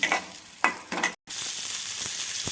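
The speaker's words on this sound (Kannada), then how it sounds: "ಆ ಮಸಾಲೆ ಒಳಗನ್ನ ಸಬ್ಬಸ್ಗೆ ಸ್ವಲ್ಪ ಹಾಕಿ ಸ್ವಲ್ಪ ಫ್ರೈ ಮಾಡ್ಕೋಬೇಕು" Chopped dill leaves fry and get stirred into a masala in a pan, with close sizzling and scraping bursts of stirring broken by a brief cut, no talk.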